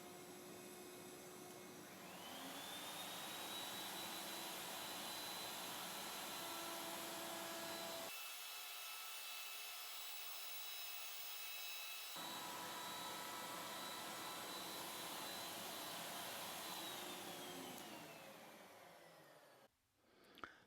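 A router whines up to a steady high-pitched roar as it cuts a curved profile against a starter pin, the tone shifting slightly mid-cut before winding down and ending with a soft clunk.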